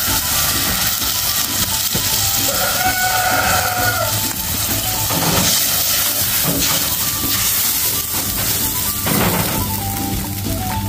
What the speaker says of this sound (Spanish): Ahora le echamos un poquito de agüita.